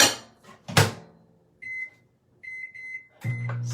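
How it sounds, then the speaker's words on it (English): A kitchen microwave oven starts up with a thump and a short run of beeps, then hums along quietly, with more beeps and a door or button clunk near the end; no speech. "I'm going to put this in the microwave for just about 1 minute."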